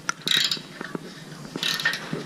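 A ratchet wrench drives bolts down during a car exhaust build, with a run of quick mechanical clicks and metallic clatter up close that goes on without talk.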